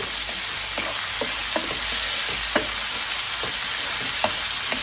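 Potatoes and tomatoes sizzling in a pan with ginger garlic paste for a green bean potato curry, a steady frying hiss broken by scattered scraping clicks of a spoon stirring.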